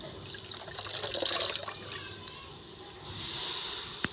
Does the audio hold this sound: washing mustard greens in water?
yes